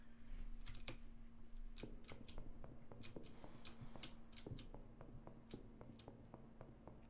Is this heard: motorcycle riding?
no